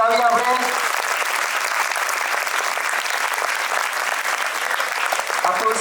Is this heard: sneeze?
no